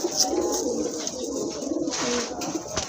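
A Rajgolla pigeon, part of a pair offered for sale, coos close by in repeated low, throaty rolls over soft background noise.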